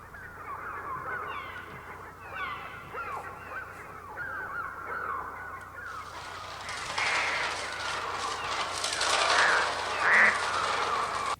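Shrill bird cries, screeches and caws from the film The Birds pile up over a low hum, starting sparse and growing into a dense, loud clamor of many birds.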